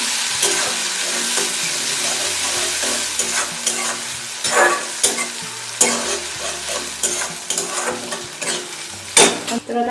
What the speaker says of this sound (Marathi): एक छोट्या आकाराचा टोमॅटो बारीक कापून घेतला व्यवस्थित परतून घेते